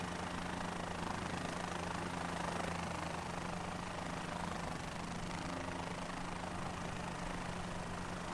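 A helicopter flies near the Newgrange passage tomb mound in Ireland, giving a steady, faint, distant rotor and engine drone that holds evenly throughout with no talk.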